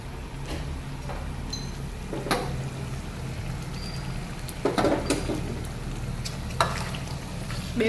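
A second tempering of spices hits hot ghee for pav bhaji, giving a low, steady sizzle with scattered sharp pops and crackles throughout.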